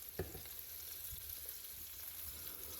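Ground beef patties for Salisbury steak fry in a pan with a steady, soft sizzle and a few light clicks and pops, close by and with no talking.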